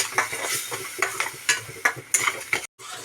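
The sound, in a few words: spice paste being sautéed in pan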